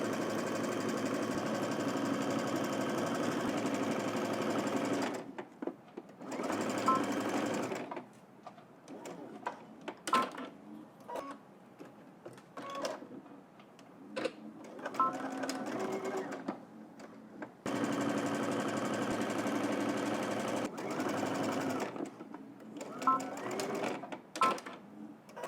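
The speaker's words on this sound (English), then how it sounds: "we're going to head to the machine. We're going to stitch across the shoulder and then also along the side seam" Sewing machine stitching a garment's shoulder and side seams at a 5/8-inch seam allowance, running in several long steady bursts separated by pauses with fabric handling and small clicks, close and fairly loud.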